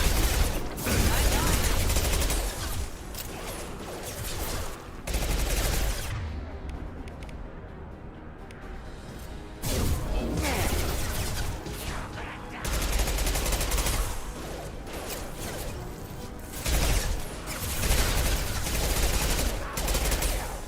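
Futuristic guns in a video game firing rapid, loud bursts of automatic fire, nearly continuous with brief pauses and one quieter stretch partway through, dense and close.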